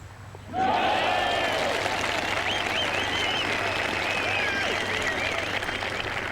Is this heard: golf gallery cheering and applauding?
yes